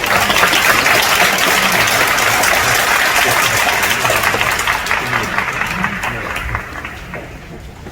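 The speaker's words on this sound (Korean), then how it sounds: "나오실 때 큰 박수로 환영해 주시기 바랍니다" At a Korean Pentecostal conference, a large audience gives loud, sustained applause to welcome a presenting professor, a thick continuous roar of clapping that slowly tapers off toward the end.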